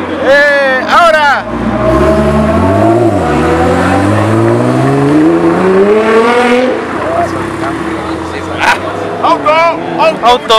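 A sports car at a Cars and Coffee meet in Chile revs hard, its engine note climbing and falling in long sweeps before easing off, loud and close, with excited shouting and chatter around it.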